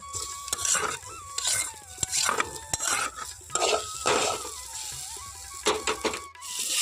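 Fried eggplant and fried neem leaves are stirred in a pan, a spatula scraping and knocking against the metal in a steady close rhythm over a soft sizzle, no voices.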